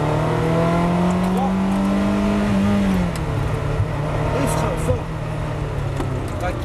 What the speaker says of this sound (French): Ressort à gauche, et accélère. Gaz à fond.